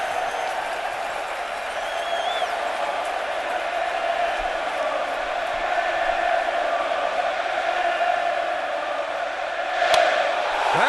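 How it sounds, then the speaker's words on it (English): A standing-room-only stadium crowd at the 2013 NL Wild Card baseball game, Pirates vs. Reds in Pittsburgh, roars steadily and loudly throughout. The dense, continuous wall of cheering and yelling swells slightly near the end. "this standing room only crowd trying to get under Johnny Cueto's skin"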